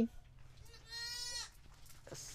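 Goat on a farm giving a single wavering bleat of about half a second, moderately faint against a quiet background with a few soft knocks.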